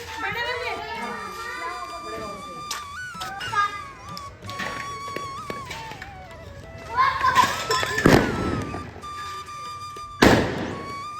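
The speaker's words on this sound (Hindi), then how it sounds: "यहाँ पर बच्चे जो है पटाखे छुटा रहे हैं" Two sharp firecracker bangs burst out a couple of seconds apart, set off by children in a village, amid children's chatter and lighter thumps nearby.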